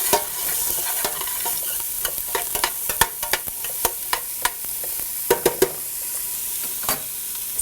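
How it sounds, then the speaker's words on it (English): Onions fry in olive oil in a pot while a spoon stirs them, producing a soft continuous sizzle broken by frequent sharp scraping clicks against the pan. "I'm going to give this a stir and make sure all the onions are coated in that olive oil"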